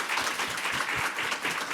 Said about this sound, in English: again, a round of applause to Natalie Appleyard.